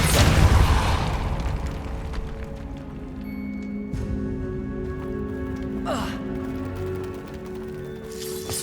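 Depulso force spell cast in Hogwarts Legacy, a burst of blast and whoosh at the start followed by lingering magical tones and a later brief swish, with a voice speaking briefly.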